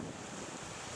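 Waves washing onto a small beach, heard as a steady, close, broadband roar of surf mixed with wind buffeting the microphone, continuous with no distinct breaks.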